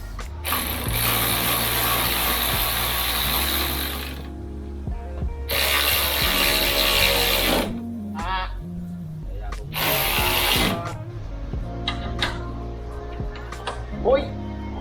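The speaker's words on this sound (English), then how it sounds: "Electric ratchet." An electric ratchet working in the engine bay of a Toyota AE86 with a 7AGE engine, running in three loud, buzzing whirring bursts of a few seconds each, separated by pauses filled with clanks and handling noises.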